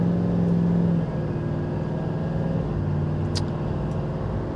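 A 2024 Chevy Silverado 2500 HD heavy-duty pickup accelerating, heard from inside as a steady, moderately loud engine drone with a gear change early on, smooth and continuous throughout.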